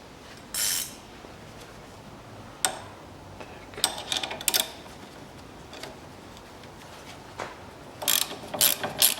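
A hand ratchet clicks in short bursts while loosening a nut on a stabilizer link of a Ford Focus 3, with sparse metallic ticks heard close and alone.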